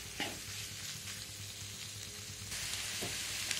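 Broccoli garlic butter noodles are stirred in a pan, giving a quiet, steady sizzle with a few soft scraping strokes of the utensil and a small jump in level partway through.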